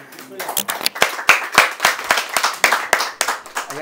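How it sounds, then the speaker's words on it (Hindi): Audience at a poetry gathering (mushaira) in a palace hall claps to welcome the presiding guest, sharp distinct hand claps in an uneven rhythm, fairly close, with talk running underneath. "अब मैं आप सब दोस्तों की तालियों में दावत देता हूँ जनाब हमारे आज के सदर जनाब खालिद अलीम साहब"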